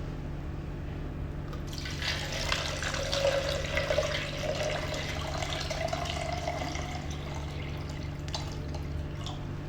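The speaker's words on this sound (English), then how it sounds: "Okay, now we inject water." Water pours into a machine's tank through a filling inlet, a soft steady trickle and splash with a gentle rising fill tone under a constant mechanical hum, no speech.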